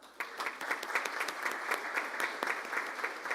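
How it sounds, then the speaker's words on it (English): A Rotary Club luncheon audience gives a round of applause, brisk moderately close clapping from a room of people that starts abruptly and holds steady for a few seconds. "Can we give them a round of applause?"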